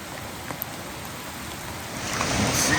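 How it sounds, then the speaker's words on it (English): Heavy rain beats steadily on a high, muddy creek while someone is out fishing. The hiss is dense and constant and grows slightly louder toward the end, with no voices. "Look at this rain."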